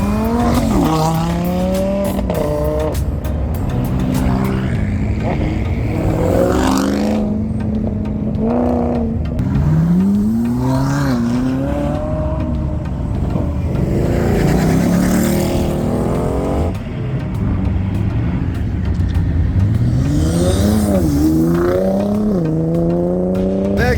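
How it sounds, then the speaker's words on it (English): Ford Mustang GT350s pull away in a group, their engines revving up and down repeatedly. The sound is loud and continuous, with tire squeal mixed in as the cars drive off one after another. "Oh, the Mustangs are leaving."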